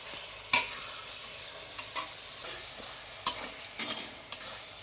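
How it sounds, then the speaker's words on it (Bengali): Meat masala with sour yogurt stirred in a frying pan, a soft continuous sizzle punctuated by a few sharp scraping clacks of the spoon against the pan, close and with no voices. "এখানে আমি 4 চামচ টক দই নিয়ে এটাই মধ্যে দিয়ে দেবো। এখন আমি এটা নেড়ে নেব।"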